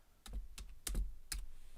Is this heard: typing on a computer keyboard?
yes